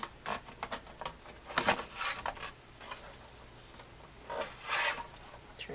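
Paper edge being trimmed on a pyramid-style photo album craft for a July 4th family outing, giving a series of soft, close rasping and rubbing strokes in uneven bursts, with no talking.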